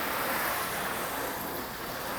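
Water from a garden hose rinses gently over a rare Chevy SS car, a steady broad hiss of spray and splashing with no voices.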